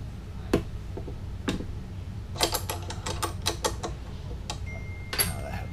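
Tightening the clamp on a DIY gooseneck camera mount gives sparse, close mechanical clicks and ratcheting creaks: a few isolated snaps, then a quick cluster of sharp ticks over a quiet room hum.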